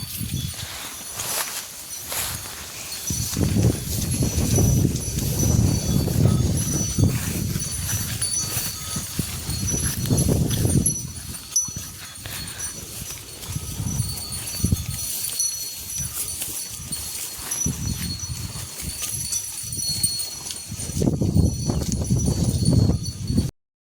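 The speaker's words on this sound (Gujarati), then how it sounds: "ગાયો અહીંયાથી આવી ગઈ છે" Cows walking into a farm field, their hooves clopping and shuffling on the ground at close range in irregular bursts through the whole stretch, with rustling and outdoor background noise and no talk.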